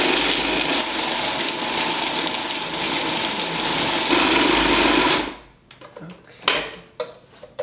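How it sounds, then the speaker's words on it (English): A kitchen blender whirs loudly and steadily for about five seconds while blending power ball ingredients with raisins, then cuts off abruptly, followed by scattered clicks and knocks. "So I'm just gonna put this on and blend away."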